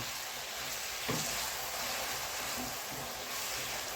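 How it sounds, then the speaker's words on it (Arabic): Chopped onion with a pinch of salt sizzles steadily in a hot pan, a continuous close frying hiss with a brief stir partway through. "احنا عايزين البصله تحمر شويه"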